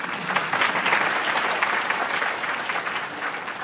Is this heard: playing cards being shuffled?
no